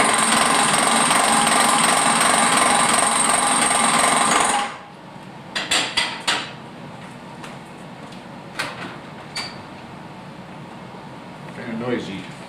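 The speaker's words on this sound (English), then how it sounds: "I think what we'll probably try is a face mill." A loud, harsh grinding roar comes from a face mill cutting metal for a scratch-built horseless carriage. It stops abruptly and gives way to scattered clunks and handling noises.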